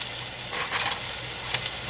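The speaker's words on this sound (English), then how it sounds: "you're starting to hear the sizzle, which is always a nice sound to any cook" Steady, loud sizzling of mushrooms frying in butter in a hot pan, with bright crackles and spits throughout.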